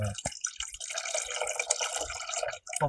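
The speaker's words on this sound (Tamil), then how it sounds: "கடைசியா புளிஞ்சு வச்ச திராட்சை சாறு." Freshly squeezed black grape juice is poured into molds for homemade fruit popsicles, a loud, close, splashy trickle with dripping that runs almost continuously and then stops briefly near the end.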